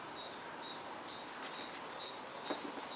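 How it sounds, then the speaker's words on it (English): A small frog calls outdoors with a thin, chirpy note repeated every half second or so, faint beneath a steady wash of outdoor background noise. "Just like a super loud like frog out here. Like a little chirpy frog."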